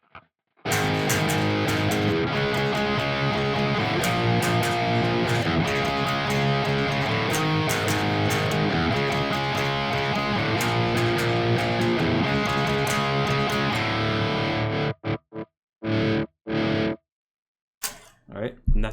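Heavily distorted electric guitar played through an effects unit in a continuous, dense riff at full loudness for about fifteen seconds, then broken off into short bursts and pauses.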